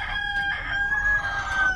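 Chickens kept in a battery cage, with a sustained, high squawking call running almost the whole moment over a low background hum.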